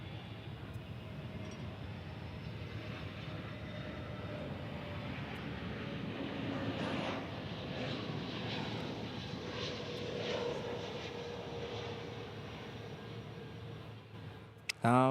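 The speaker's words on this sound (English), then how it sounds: "An A319 for Delta Airlines." A Delta Airlines Airbus A319 jet at DFW airport gives a steady, moderately distant engine roar that swells slightly midway and holds for about fifteen seconds.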